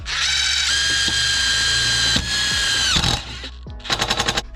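A DeWalt DCF850 cordless impact driver spins up with a high whine, then rattles in rapid hammering bursts as it drives a screw into 2.5 mm steel, with a short final burst of impacts, loud and close.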